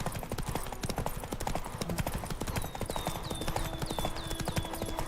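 Roach the horse trotting in The Witcher 3, a brisk, even clip-clop of hooves close by with ambient birdsong chirps in the background and occasional talk.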